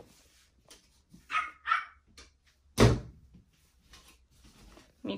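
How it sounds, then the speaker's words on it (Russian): A pet dog outside a door gives a few short, sharp barks spread over several seconds, with a loud thump near the middle and quiet gaps between. "Сейчас мы пустим тебя, собака наша."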